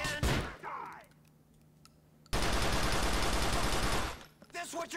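Shotgun fire from Grand Theft Auto IV: The Lost and Damned: a sharp blast near the start, then a long dense burst of loud gunfire near the end, with shouting voices over the game sounds.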